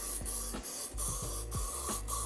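Finish sprayed onto antique wood in short repeated bursts, about four or five hissing pulses with brief gaps, close and fairly loud over a low steady hum.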